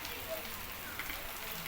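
Steady rain falls outdoors in rainy weather, a dense continuous hiss of drops on surfaces close by, with no other sound standing out.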